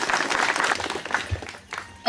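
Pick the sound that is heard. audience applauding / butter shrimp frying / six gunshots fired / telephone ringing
audience applauding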